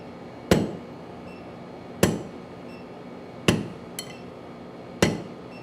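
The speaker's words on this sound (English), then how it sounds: "I'm tilting my hammer. Just so you know, I'm intentionally trying to forge that way." A blacksmith's hammer strikes metal while forging: five sharp, ringing blows about a second and a half apart, each decaying quickly, with a faint extra tap between two of them.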